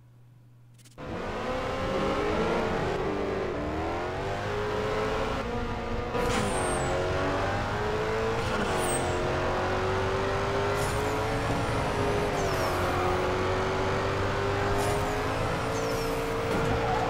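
A race car engine in Need for Speed No Limits starts up suddenly and then holds a loud, continuous roar that rises and falls as it revs and shifts through gears, close and with no talk.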